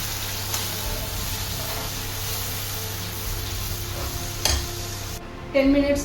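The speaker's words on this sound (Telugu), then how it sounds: "ఈ మసాలాలో కొంచెం బాగా ఉడకాలి. కొంచెం 10 మినిట్స్ బాగా ఉడకాలి." Masala curry for Rayalaseema fish curry bubbles and sizzles in a pan, a steady close crackle with light stirring, ending in a couple of louder clanks and splutters.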